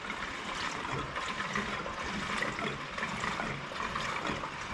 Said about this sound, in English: he's gonna put some fresh gas in there so that we can see if the carburetor will leak